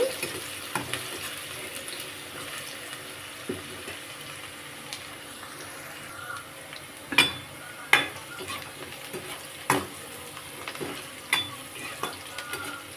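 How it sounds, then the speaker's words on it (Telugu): Onions and green chillies fry in a kadai for a prawn and chana dal curry, giving a steady close sizzling hiss broken by occasional sharp scrapes and clinks of stirring. "కళాయి పెట్టుకొని ఉల్లిపాయలు పచ్చిమిర్చి వేసి వేస్తున్నాను"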